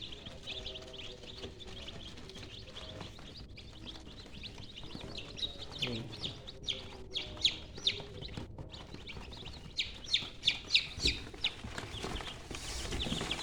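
A flock of newly hatched chicks cheeps continuously in high, overlapping peeps, with a few louder chirps standing out near the end over a low background murmur.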